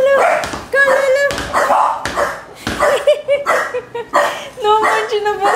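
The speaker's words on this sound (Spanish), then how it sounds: "no puedo creer que le está ladrando la taza" Small dogs bark repeatedly at a mug, rapid high yapping bursts that come in quick rhythm, loud and close, mixed with excited voices talking over them.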